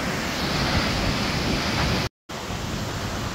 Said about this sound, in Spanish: Allá va el río. Precioso.